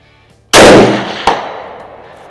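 A single loud report from a custom Mosin Nagant rifle firing hand loads, followed about three-quarters of a second later by a sharp distant ring of a steel target hit at 200 yards, decaying slowly.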